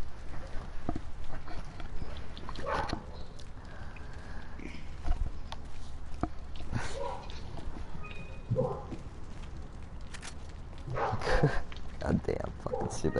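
Dog barking in the video game Resident Evil 4, scattered barks and whimpers over a steady game background with people talking throughout.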